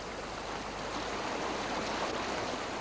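Fast-flowing narrow upper River Severn rushing down steep Welsh mountain ground, a constant broadband water roar up close with no voices.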